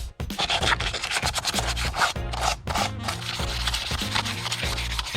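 Chipped paint is scraped or sanded off a van in dense, rhythmic rasping strokes close by, with music playing underneath.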